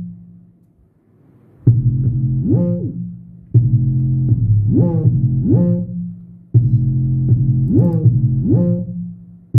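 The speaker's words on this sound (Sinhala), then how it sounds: "808 එක මෙන්න මේ වගේ" Deep 808 bass notes in a beat built from a sampled old keyboard, sounding as three long, loud, booming phrases with sliding pitch bends, separated by short gaps.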